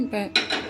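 A metal cooking pot is set down onto a stove while making pepper rasam, giving a short double clank of metal on metal with a brief ringing clatter, close and alone.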